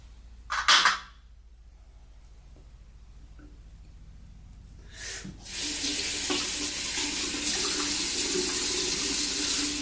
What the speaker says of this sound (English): I'm gonna run the razor underneath hot water, get that blade warmed up.